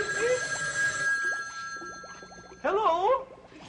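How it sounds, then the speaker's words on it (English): A phone rings with bright repeated electronic tones, loud and close, over a background of talking and clatter, with a stronger ring burst near the end. "the phone's ringing"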